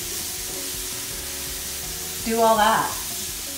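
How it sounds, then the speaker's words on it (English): Meat cooks in a pot for cup-of-soup, a close, steady sizzle and hiss underneath, with a voice talking briefly over it. "I'm still cooking my meat."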